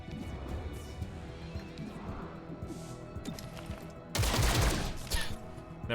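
Gunfire in the video game XCOM: Chimera Squad bursts out loudly near the end as a dense volley, after a stretch of quieter game sounds and clatter.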